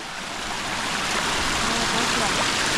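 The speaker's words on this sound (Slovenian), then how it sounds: "Evo, takole ven vre voda." Thermal spring water bubbles up in a canyon, a dense, continuous rushing and gurgling close by, steady and loud throughout.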